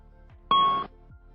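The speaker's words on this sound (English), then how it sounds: "You hear a single chime and see the master caution light." A single chime from an Airbus A320 cockpit ECAM system, the master caution alert triggered by a display management computer failure: one clear, loud ding with a steady ringing tone lasting about a third of a second, standing alone over faint background hum.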